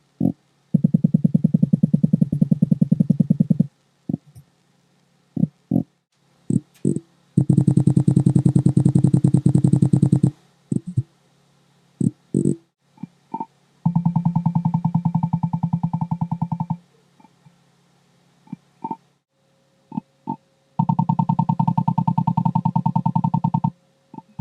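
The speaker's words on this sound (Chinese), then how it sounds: "震动方面，一加远超真我没啥悬念" Vibration motors in the OnePlus 12 and Realme GT5 Pro smartphones buzz in a pattern of long sustained bursts and short sharp pulses, loud and close, with no talking.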